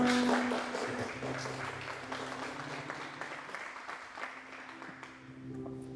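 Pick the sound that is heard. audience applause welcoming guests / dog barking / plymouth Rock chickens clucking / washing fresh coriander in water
audience applause welcoming guests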